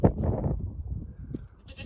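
A young goat kid of a horned goat bleats loudly and close by, one long wavering cry followed by a shorter fainter call, with no talk.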